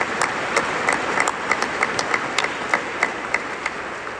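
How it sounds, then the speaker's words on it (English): At Will Wade's introduction as NC State coach, a press room audience claps. The hands are fairly sparse and individual claps stand out as sharp, distinct slaps in a steady, uneven patter, with no one speaking. "We can clap for her too."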